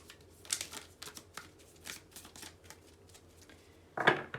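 Tarot cards are riffled in a short shuffle, a few soft papery bursts spaced through a quiet room, ending in one louder flurry.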